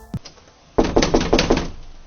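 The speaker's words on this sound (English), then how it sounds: "He banged on the door, hearing only a muffled response from within." After a quiet pause, a fist bangs hard on a door about five times in quick succession, loud and close, following one earlier faint knock.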